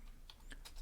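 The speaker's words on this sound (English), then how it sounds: "let me also write to Jeev, not John, but Jeev." A few light keystrokes on a computer keyboard while typing a message, soft and sparse clicks spaced apart, faint and close with no talk.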